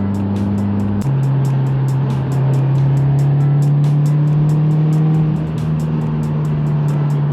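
A Subaru WRX with a COBB Stage 1 tune pulls hard in fourth gear from about 4,000 to 5,500 rpm, its engine drone loud and steady and rising slightly in pitch, heard from inside the car.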